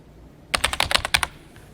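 Quick burst of keystrokes on a computer keyboard, about a dozen crisp, close taps in a rapid, uneven rhythm, alone in a quiet room.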